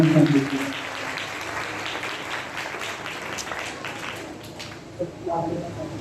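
A congregation at a Holy Mass for the Feast of Saint Anthony breaks into sustained, moderately loud applause that follows a brief spoken voice and carries on steadily throughout.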